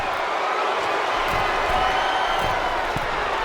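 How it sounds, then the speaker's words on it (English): Wrestling arena crowd noise in WWE 2K26, a steady, dense roar of a large audience with faint thuds underneath, with no talk heard over it. "And the crowd, they're booing"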